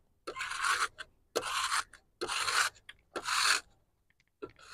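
Dried bee venom scraped off a collector plate with a scraper, four even raspy strokes in steady rhythm with short pauses and a fifth starting at the end, close and crisp, no talking.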